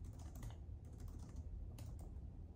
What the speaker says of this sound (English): I'm struggling to type over here.